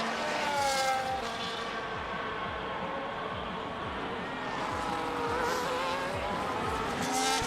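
Race car engine in the F1 25 video game on the Las Vegas street circuit, a continuous high-pitched, buzzing whine that rises and falls steadily through gear changes, loud and close for the whole stretch with no talking.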